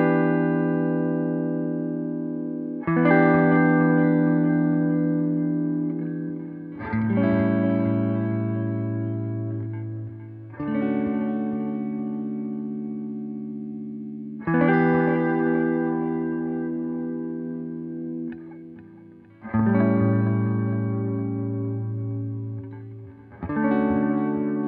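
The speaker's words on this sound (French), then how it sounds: "Cela crée un effet de flottement ou de pleurage dans le son," Electric guitar chords through a UAFX compact pedal set for tape-style wow and flutter, six sustained strums a few seconds apart, each wavering in pitch as it fades, with no talk.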